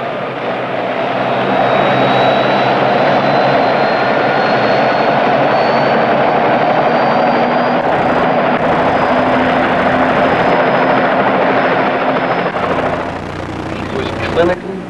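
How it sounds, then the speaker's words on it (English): A helicopter flying overhead on a cold mountain rescue, carrying a patient to a hospital, a loud continuous engine and rotor roar that lasts throughout and fades slightly near the end. "Helicopter will take her down to community hospital in town."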